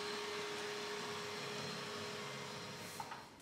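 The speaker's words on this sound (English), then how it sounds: "There it is, the Electrolux robotic vacuum cleaner." An Electrolux Pure i9 robotic vacuum cleaner runs with a steady, even motor whir and a faint tonal hum, quiet and unbroken, with a small bump near the end.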